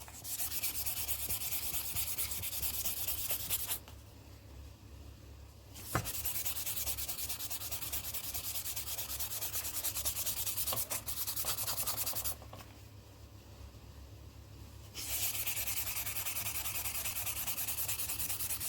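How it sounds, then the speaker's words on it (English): Steady rhythmic rubbing of sandpaper on a hard polymer clay bowl, continuous strokes with two brief pauses, close and fairly loud. "this sanding does take a while"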